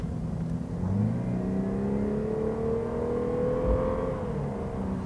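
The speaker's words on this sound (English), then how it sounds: "You can hear that active sound composer, which tries to really make the engine sound better" A 2019 Lexus RC 300 F-Sport engine revs up smoothly and steadily, enhanced by its active sound system, its tone rising as it accelerates, heard from inside with no talking.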